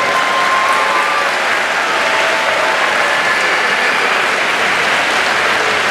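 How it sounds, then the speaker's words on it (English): Steady, full applause from a boxing arena audience for both boxers after a four-round bout at Robarts Arena in Sarasota, Florida, sustained and fairly loud throughout with no speech over it. "how about a nice round of applause for both boxers"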